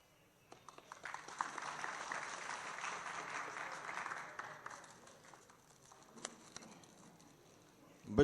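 An audience at an Urdu poetry mushaira in Warud applauds, a soft, distant wash of clapping that swells, holds for a few seconds, then thins out into scattered claps.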